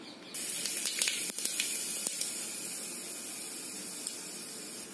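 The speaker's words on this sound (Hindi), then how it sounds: "अब हम इसमें जीरा डाल देते हैं" Cumin seeds hit hot oil and sizzle steadily with a bright, broad hiss after a sudden start, with a few small crackles and pops.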